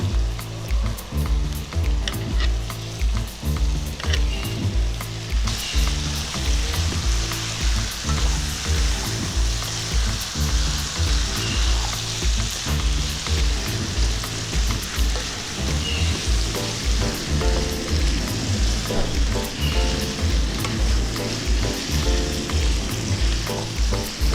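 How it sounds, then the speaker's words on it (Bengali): Chicken pieces and tomato chunks fry in a pan with ginger, garlic and green chilli paste, producing a loud, continuous sizzle with rhythmic stirring scrapes close by, no voices. "আমি মাংসগুলো কষিয়ে নেব এখন আমি টমেটোর টুকরোগুলো দিয়ে দিচ্ছি"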